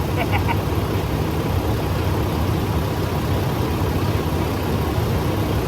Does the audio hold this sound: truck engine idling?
yes